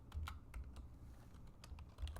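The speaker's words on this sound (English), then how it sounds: "So I'm going to start typing Worksheets again." Close, quiet typing on a computer keyboard while entering spreadsheet macro code, irregular clicky keystrokes in quick bursts with short pauses, no voice.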